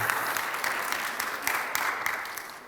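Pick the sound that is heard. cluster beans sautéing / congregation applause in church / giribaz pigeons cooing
congregation applause in church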